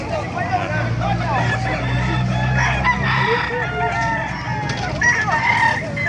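Roosters crow and hens cluck at a crowded poultry market in Calumpit, Bulacan, several birds calling close by over a busy hubbub of voices and people talking.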